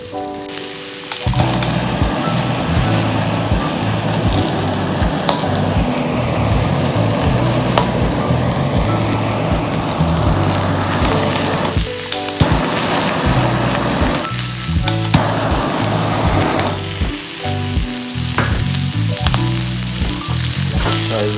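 Bone-in sea bass seared in a hot pan gives off a loud, continuous sizzle and crackle with no talking, briefly dipping and swelling as the fish is moved or turned.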